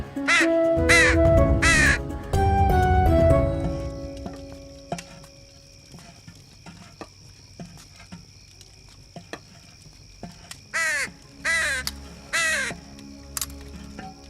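Several loud crows caw in a quick run of harsh calls at the start, then trail off into quieter background sounds, with another burst of short, rough caws near the end.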